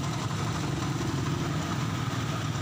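A motorcycle engine idles steadily close by during a battery voltage test, a constant mid-to-low rumble with no revving, heard alone.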